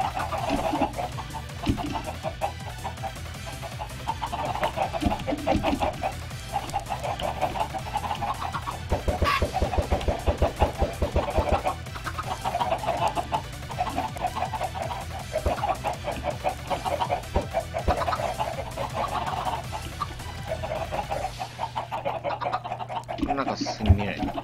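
Many chickens in the Minecraft video game cluck over and over at a steady pace in a busy farm pen, under ongoing game sounds, and a person talks now and then.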